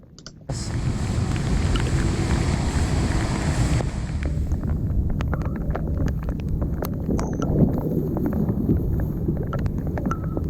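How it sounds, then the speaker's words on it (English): Pedal kayak on the Tennessee River near Knoxville pushing through large waves: steady broadband water rush and wind buffeting across the clip, with scattered splashes and knocks against the hull, close and continuous. "those were some giant waves"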